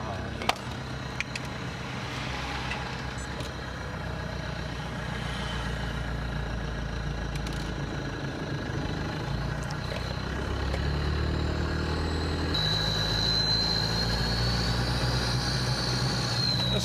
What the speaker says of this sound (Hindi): स्नॉर्कल की सीटी भी अलग ही चीज है नहीं।